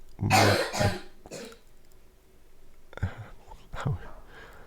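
A boy with asthma coughing indoors, with a couple of harsh bursts and a throat-clearing early on, a quiet pause, then two more softer coughs close by.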